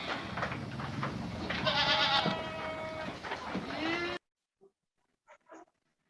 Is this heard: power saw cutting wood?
no